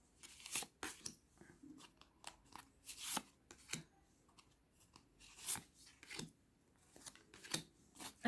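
Tarot cards are shuffled, drawn and laid down close by, in quiet, irregular bursts of snapping, sliding and flicking.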